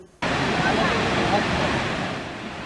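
Muradiye Waterfall in Van, Turkey, crowded with holiday tourists: a loud, steady roar of falling water. It begins abruptly after a brief quiet moment and continues unbroken, close and dense.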